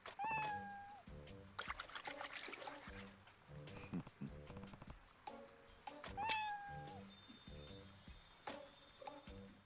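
Cat meows from the video game Like a Dragon: Ishin, several distinct mewing calls spaced through the stretch over game music and effects.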